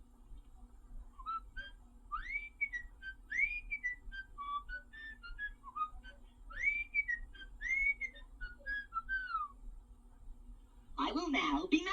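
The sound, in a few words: 1978 Mego 2-XL toy robot whistling a TV tune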